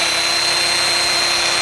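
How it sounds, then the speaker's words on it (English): A power drill drives a polishing pad on a car with a steady, loud, high whine held throughout this short stretch. "Alright, we got the drill going."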